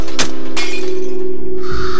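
A plate dropped indoors shatters, with a loud sharp crash followed by a second breaking burst and a brief scatter of fragments, over a steady electrical hum.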